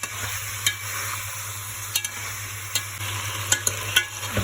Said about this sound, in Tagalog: nagsimula na tayo magluto ng sinigang na mamo. Lagay na natin ang kamatis.